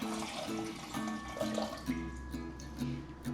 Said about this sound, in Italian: A questo punto aggiungiamo l'acqua, come vi dicevo sono 630 ml.